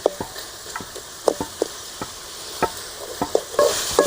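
A tomato and aloe vera tamarind curry sizzles steadily in a pan while a spoon scrapes and stirs it in a series of sharp, irregular strokes close by.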